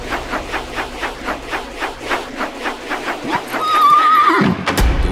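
Horses neigh loudly and hooves clip-clop in a steady galloping rhythm in a dramatised battle scene with mounted soldiers, ending in a shrill whinny and a thud.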